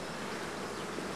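Honey bees at an apiary buzzing in a dense, steady, close hum that fills the whole moment, with no talk.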